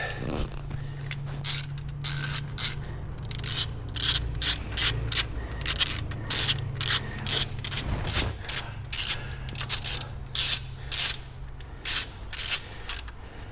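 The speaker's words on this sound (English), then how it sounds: "Gonna get a ratchet." Rapid bursts of ratchet wrench clicking, close and fairly loud, repeating in quick strokes through the clip while a car's cam phaser is swapped, with a low steady hum underneath.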